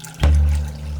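Water pours into a pot of oatmeal made with chia seeds and almond milk, a single loud close splash that settles into a steady low rush.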